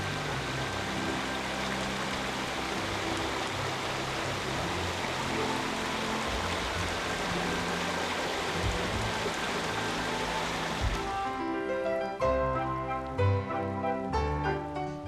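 Fife Creek rushing through the Armstrong redwoods, a dense, steady wash of flowing water heard up close, continuous and even for most of the stretch before breaking into more distinct splashing and trickling near the end.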